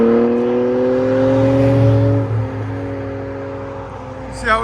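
A 2019 BMW M2 Competition with its 3.0-litre twin-turbo inline-six and Valvetronic Special Ops exhaust drones steadily with the valves closed, its pitch rising a little and then shifting as revs change, loud and close.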